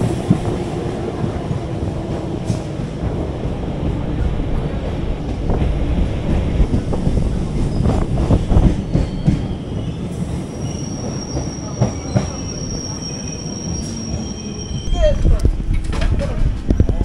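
A passenger train runs along the line toward Deulti station, with a steady loud rumble of wheels on rails, squealing wheels and wind buffeting the microphone, plus some voices in the carriage.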